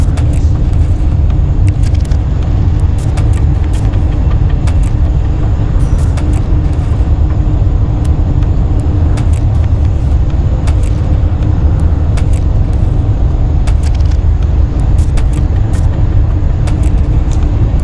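A car accelerating and cruising on a road, heard from inside as a loud steady rumble of engine and tyre noise with occasional clicks, no voices.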